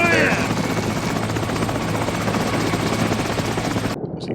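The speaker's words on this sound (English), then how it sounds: "Move away from the chopper a little bit there." A helicopter idling on the ground in an episode of The Sopranos, its loud steady rotor thrum filling the scene while people talk over it, cutting off abruptly at the end.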